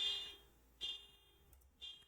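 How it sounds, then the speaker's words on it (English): An alarm goes off in a room: three high, piercing electronic beeps about a second apart, each short and fairly distinct over a quiet background, with no talk. "Sorry if you can hear that alarm going off"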